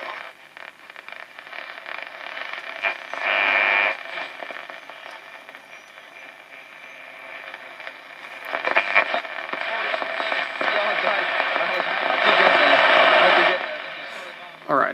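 A small Philips B0X97U bakelite radio struggles with weak reception, giving a constant hiss and crackle that swells and fades in louder noise bursts as signals drift in and out.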